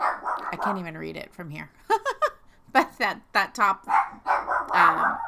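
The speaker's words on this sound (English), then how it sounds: "darn it, I'm sorry about the dogs." Dogs bark in short bursts in the background while someone talks steadily over them, the barks loud enough to break through the speech.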